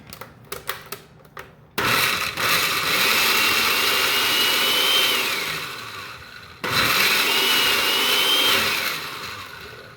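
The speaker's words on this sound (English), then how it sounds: "We're just gonna let it run until everything gets blended up." A blender pureeing enchilada sauce whirs loudly and steadily, pausing briefly before roaring up again, after a few short knocks at the start.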